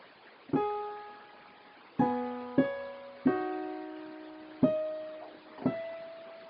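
A keyboard plays an organ song as six separate struck notes and chords, each ringing out and fading before the next. The phrase is slow and sparse, heard alone and close.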